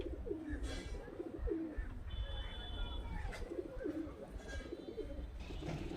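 Murshidabad pigeons, including a large green male, coo in soft, low, rolling calls that repeat in a steady rhythm close by, with faint chirps from other birds in the background.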